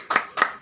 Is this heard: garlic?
no